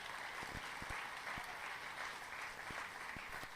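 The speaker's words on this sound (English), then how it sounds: "So let's give him a round of applause as well." Steady applause from an audience at a corporate partnership celebration with the Oklahoma City Thunder, continuous clapping held at an even level with a few sharper individual claps standing out.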